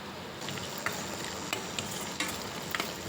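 Onion and garlic sauté in a pan for a cluster bean tamarind curry, a close, constant sizzle broken by regular scrapes and taps of a stirring spoon.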